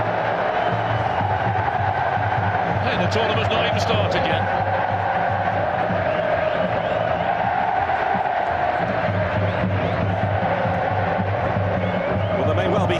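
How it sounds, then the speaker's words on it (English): Stadium crowd noise at a football match between Italia and Fluminense FC, a steady roar of cheering and babble running throughout, with a voice speaking over it. "And the crowd have made it fabulous."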